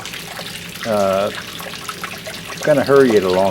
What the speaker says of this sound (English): So I'm putting a little bit more water in here with the hose